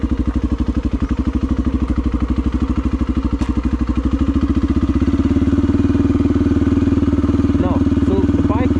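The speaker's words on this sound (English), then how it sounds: "Now, so the bike is now moving. So I control it with the throttle." A motorcycle engine thumps in a fast, even rhythm close by as the bike moves, its note steadying and growing slightly louder as the throttle opens.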